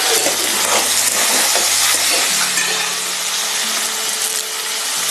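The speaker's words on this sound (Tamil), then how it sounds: "தக்காளியை போட்டு தக்காளி இதோட சேர்ந்து நல்லா வதங்கணுங்க" Tomatoes and garlic sautéing in a hot pan for a Tamil thudhuvalai kuzhambu, a steady close sizzle and hiss with faint clinks of a utensil, no voices.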